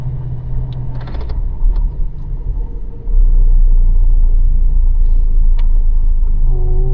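Heavy construction vehicles at work on a large wind turbine project site in Laos, a steady low engine rumble that swells louder and stays loud and continuous midway through, with no voices.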